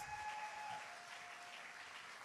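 A church congregation applauds and cheers in praise, a dense, steady wash of clapping that fills the room from start to finish with no one speaking over it.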